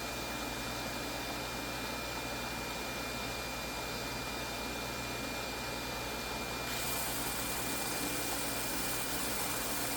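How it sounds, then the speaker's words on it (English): A belt sander with a 240 grit belt works Nordic gold metal, a loud, steady, unbroken whirring drone that holds even for the whole stretch, with a slight shift near the end and no voices. "We're moving into the medium grit range now with a 240 grit belt."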